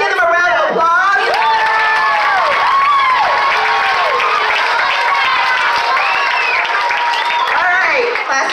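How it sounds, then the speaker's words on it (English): At a school house assembly, a crowd of children applauds while excited shouts and whoops rise over the clapping, a loud, continuous mix of hands and young voices. "let's give them a round of applause."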